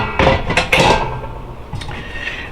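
A thin perforated metal tray from a Gourmia air fryer being handled, giving a few sharp metallic clanks and rattles close by in quick succession, then quieter light contact sounds.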